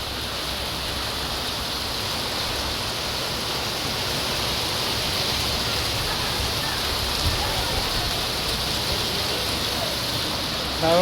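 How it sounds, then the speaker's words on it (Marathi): Heavy rain pours steadily and close, a dense, even hiss that continues without break. "आता पाऊस किती पडतोय"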